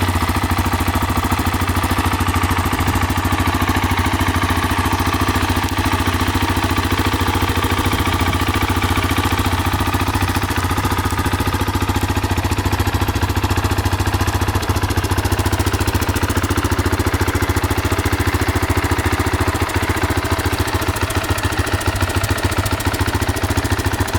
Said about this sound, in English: This is a stock exhaust.